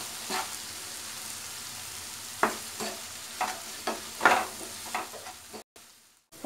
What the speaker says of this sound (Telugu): ఇది ఇంకా మంచిగా కలపాలి, ఆనియన్స్ మంచిగా ఫ్రై అవ్వాలన్నమాట.